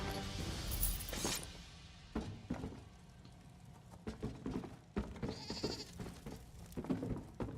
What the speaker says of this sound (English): Yes, goat. I hear you.